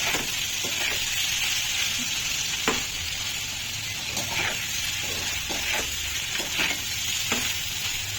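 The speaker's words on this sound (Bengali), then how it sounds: "এখানে টমেটো ভাজা হচ্ছে" Tomatoes frying in white oil in a pan, a steady bright sizzle with scattered pops and stirring scrapes, close and continuous, with no talk.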